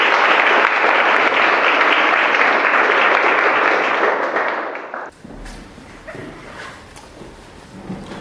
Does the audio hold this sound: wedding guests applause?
yes